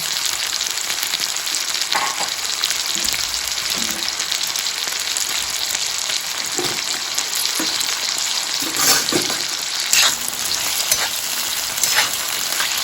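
Marinated prawns fry in hot oil with a loud, constant close-up sizzle and crackle, broken now and then by the scrape and clink of stirring, continuing for about thirteen seconds.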